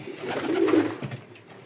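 Pigeons in a dry pigeon loft give one soft, close coo lasting about a second, with quiet surroundings and no voices.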